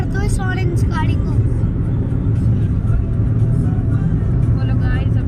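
A car overtakes another vehicle on a road, heard from inside as a loud steady road and engine roar throughout, with a voice talking briefly over it near the start.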